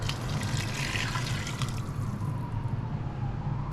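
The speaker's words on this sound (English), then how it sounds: "This is why I'm going to add some more water. So I've got half a litre of water." Half a litre of water poured into a pan of lentil dahl, a continuous close splashing pour over a low background hum, with no speech.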